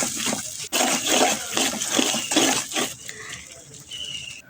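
A spatula is stirred steadily through an onion and spice paste in a pan with red chili, turmeric, coriander, cumin and ginger-garlic paste for liver and brain bhuna. Close, continuous wet scraping and sizzling comes in rhythmic strokes, then eases off.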